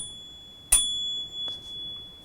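A bicycle bell newly fitted to a single speed VanPowers City Vanture eBike gives one sharp ding with a short ringing tail, then a fainter tap follows in a quiet room.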